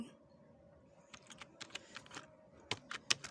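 Typing on a laptop computer keyboard: a quick run of light, close key clicks, irregular and speeding up toward the end, with no talk over it.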